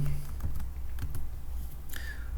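Keys clack on a computer keyboard in short irregular bursts of typing, close and fairly clear over a low steady background hum, with no voices.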